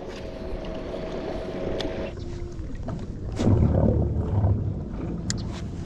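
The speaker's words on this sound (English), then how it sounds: "I think I got the motor running very well. So it's time to do a complete water demo." A Newport NK300 electric trolling motor on a kayak hums steadily on open water, its low whine joined by churning and splashing from the propeller that swells briefly midway, with no voices.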